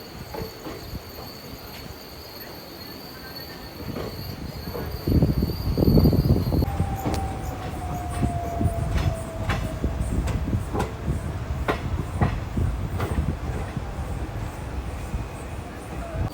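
Mussoorie Express pulling out of Doiwala railway station, with steady rumbling and rhythmic clatter of wheels on rail that grows louder midway, insects chirping, and a faint tonal whine.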